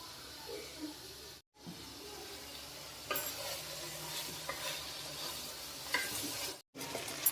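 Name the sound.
stirring broad beans frying in a pan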